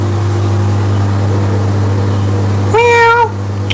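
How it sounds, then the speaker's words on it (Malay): A single cat gives one clear, loud meow near the end, rising then falling, after a long stretch of steady low hum and background noise in Kuching, Sarawak. "Oh, ni kucing."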